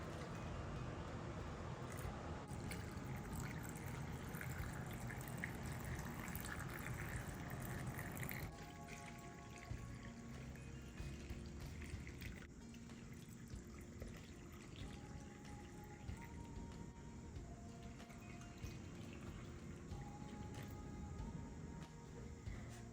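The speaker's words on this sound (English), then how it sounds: "most recipes will ask for boiling water in the jars, but I just use very hot tap water" Hot water runs from a tap into glass jars, a steady gushing stream that shifts in pitch as each jar fills.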